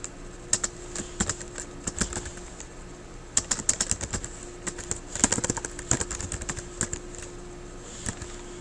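Quick, irregular bursts of keystrokes on a computer keyboard as text is entered into a spreadsheet cell, close and fairly quiet, with short pauses between clusters of taps.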